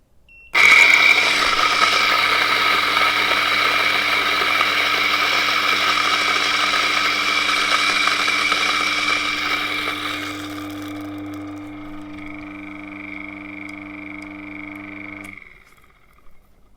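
A DF54 electric coffee grinder grinds 13 grams of beans in one steady, loud whirring run with a high-pitched motor whine, thinning out as the beans are used up and leaving a hollower hum before it stops; no one talks.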